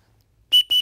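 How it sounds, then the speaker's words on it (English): A small blue emergency whistle blown in two sharp, shrill blasts close by, each lasting about a tenth of a second with a brief gap between them. "Got a little blue whistle here."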